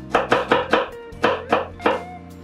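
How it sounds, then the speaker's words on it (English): Knife chopping a garlic clove on a board for vegan pickled cucumber: seven crisp, evenly spaced chops with a short pause midway, close and clear with no talking. "I'm going to chop one."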